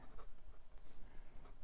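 Steel 1.1 stub nib of a Lamy Safari fountain pen scratching across paper, a quiet close-up scritch of short strokes with no one speaking.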